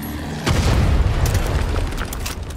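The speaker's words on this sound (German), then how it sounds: "Was sind da explodiert?" An explosion in the Far Cry 6 video game hits as a sudden deep boom after a short quiet lead-in. A heavy, rumbling blast rolls on for about two seconds and slowly fades.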